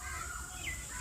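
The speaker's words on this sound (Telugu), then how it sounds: "ఆ బర్డ్స్ సౌండ్ ఏంటండి" Birds chirp in Lalbagh park, Bangalore, a few faint short calls rising over a steady outdoor hum, distant and sparse with no talking.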